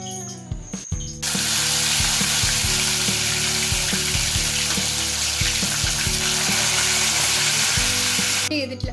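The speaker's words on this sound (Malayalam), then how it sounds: "നമുക്ക് എന്തായാലും ഫ്രൈ ചെയ്യാം." Chicken frying in hot oil for mandi, with a loud, continuous sizzle and occasional scraping stirs against the pan after a brief clatter at the start.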